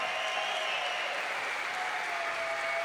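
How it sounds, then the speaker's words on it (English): A crowd at the La Sportiva Legends Only 2018 climbing competition claps steadily for winner Alex Megos, with dense, even applause filling the whole stretch and no voices rising above it. "Ladies and gentlemen, your winner."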